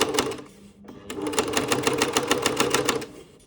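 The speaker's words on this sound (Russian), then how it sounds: "Вот я уже шью." A sewing machine stitches a decorative Easter basket cover, its needle thumping in a quick even rhythm close by, with a short pause before the stitching picks up again.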